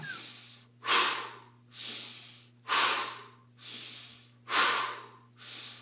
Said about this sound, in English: Lots of strong exhales